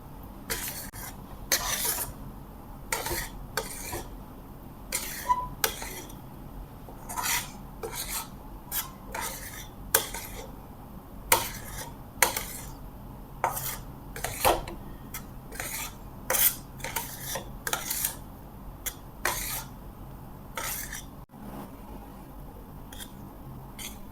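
A spoon scrapes and stirs a thick peda mixture with cardamom powder in a pan, giving repeated rasping strokes in an uneven rhythm, close and fairly loud, with short pauses between bursts.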